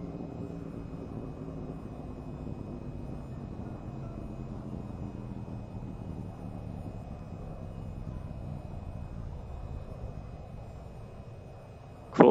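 An F-45A stealth fighter in the VTOL VR flight game rolls down the runway with brakes held, its engine a steady low roar that slowly winds down, ending with a sudden sharp click.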